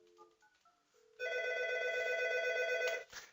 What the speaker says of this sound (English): now I'm going to call 792 to hear the ringing